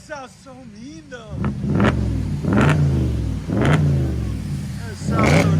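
An Audi S4 with a V8 engine revs hard in the rain, with repeated rising and falling throttle blips up close. People talk excitedly over the engine.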